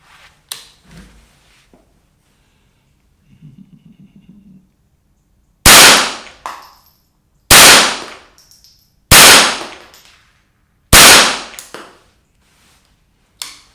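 A Ruger 10/22 competition rifle fires four sharp, loud rounds in an even rhythm, each crack trailing off into a short echo. Faint mechanical handling noises come before the shots.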